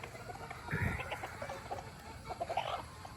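Sweater gamefowl roosters clucking in a yard, a few short clucks and low throaty calls at close range over faint background noise.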